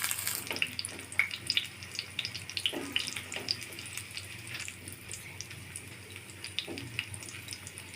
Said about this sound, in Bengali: তেলটা গরম হয়ে গেছে। পরোটাটা সেই তেলের মধ্যে দিয়ে দিব।